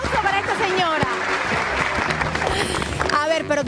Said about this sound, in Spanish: aplauso para esta señora